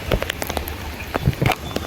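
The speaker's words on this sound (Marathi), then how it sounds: "भरपूर पाऊस आहे" Steady patter of rain with scattered louder drops and splashes, fairly close and continuous, no voices.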